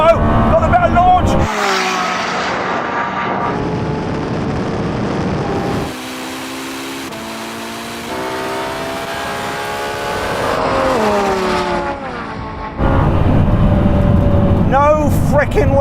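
A Lamborghini Revuelto and a Ferrari SF90 drag racing, their loud engines rising in pitch through several gear shifts with sustained roaring acceleration, heard from inside one car while people talk over it.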